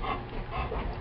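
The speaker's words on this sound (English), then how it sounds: "Excuse my dog." A pet dog indoors, making soft low whimpering and panting sounds, continuous and fairly quiet for about a second.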